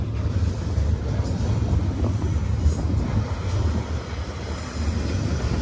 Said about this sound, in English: Thought I heard a train behind me.